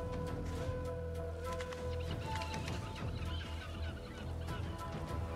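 A chicken in the Divinity: Original Sin 2 video game clucks and squawks in several bursts over a busy, continuous game soundscape, with no one speaking.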